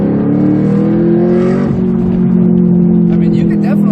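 A 2016–2017 Chevrolet Camaro with a loud aftermarket exhaust pulls in fourth gear at about 40 mph, its deep, steady droning exhaust note rising slightly under acceleration, heard from inside the car with someone talking over it.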